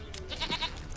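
A goat in The Witcher 3 bleats once, a nasal wavering cry in the middle of the moment, fairly faint against low ambient game sound.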